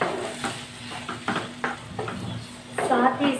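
Boiled keema with ginger garlic paste being stirred in a pan, with scraping, clinking strokes and a soft sizzle at an unsteady rhythm, close and moderately loud.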